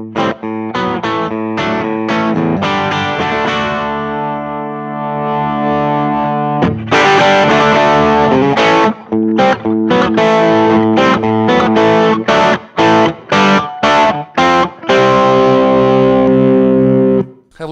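Electric guitar on the bridge pickup played through a Walrus Audio Messner low-gain overdrive pedal set to closed mode with knobs at noon, lightly gritty sustained chords and then choppy rhythmic strums, loud and close with no voice.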